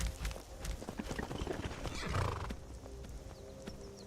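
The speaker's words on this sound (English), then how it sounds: "That's my horse now. It's my horse. The drunken horse." A horse in Skyrim whinnies loudly and close while its hooves clop in a quick irregular rhythm, the neigh rising and trailing off in the middle, with game ambience underneath.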